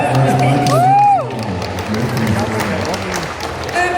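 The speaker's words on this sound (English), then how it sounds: "Wow, round of applause." A crowd at an 80s fan convention reunion event breaks into applause and cheering, with loud voices and a whoop over a steady bed of clapping throughout.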